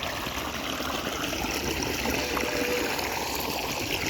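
Steady flowing water from a stream or outdoor water source, a continuous broadband rush held at an even level throughout with no talk over it.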